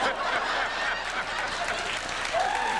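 Women in a studio audience applauding, a steady broad clatter of clapping filling the whole moment at moderate loudness, with faint murmurs mixed in.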